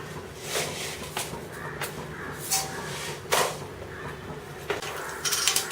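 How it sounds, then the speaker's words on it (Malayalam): Mustard seeds start to crackle in hot oil in a heavy-bottomed pan for Kerala moru curry. Scattered sharp pops stand out over a low, steady hiss, a few at a time and fairly close. "കടുക് പൊട്ടി തുടങ്ങിയിട്ടുണ്ട്."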